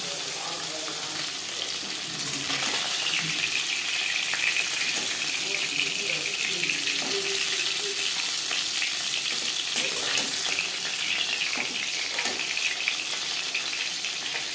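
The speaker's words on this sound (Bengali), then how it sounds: "একটা সাইড ভাজা হয়ে গেলে অপর সাইডটা উল্টে দেবে" Pieces of bata fish fry in oil, a loud continuous sizzle and crackle close by, with occasional clatter as the pieces are turned over.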